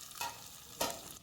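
Onion, garlic, dried red chillies, curry leaves, cumin and mustard seeds tempered in hot oil, with a steady soft sizzle and two brief louder bursts as the pan is stirred.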